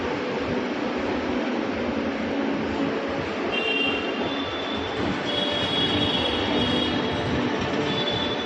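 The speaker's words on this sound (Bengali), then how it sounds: "শতাব্দী এক্সপ্রেস 18 নম্বর প্ল্যাটফর্ম থেকে ছাড়বে" A Shatabdi Express train moves at a railway station platform, rolling steadily with a loud, continuous wheel rumble. Squealing wheels rise faintly over it partway through.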